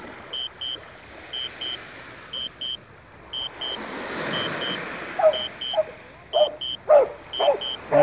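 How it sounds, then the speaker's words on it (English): Dogs bark near the shore of Lake Huron, several sharp barks clustered toward the end over steady water and wind noise, with a repeating electronic beeping pattern through the first part. "got barking dogs"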